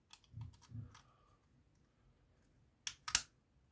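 Plastic trim on a Jabra PRO headset clicks back into place: a few soft handling taps early on, then two sharp, close snaps near the end, in an otherwise quiet room.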